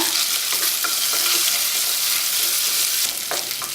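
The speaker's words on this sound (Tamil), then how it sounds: "இஞ்சி பூண்டு விழுது போட்டுக்கலாம். இது பச்சை வாசனை போகிற வரைக்கும் கிண்டிக்கோங்க." Ginger-garlic paste fries loudly in a pan for potato biryani. The close, continuous sizzle comes with scraping stir strokes and no voices.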